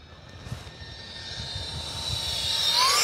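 An E-flite F-14 Tomcat twin 40mm electric ducted-fan model jet flying on a 4S pack as the throttle is pulled way down, a whining fan tone sweeping and rising as it passes closer, steady and moderately loud with no talk.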